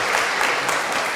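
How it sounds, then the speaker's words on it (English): A student audience at an Oxford University question session claps for a question from the floor, a short burst of dense, even applause at full strength. "Thank you for your question, and you all can clap for it, it's okay."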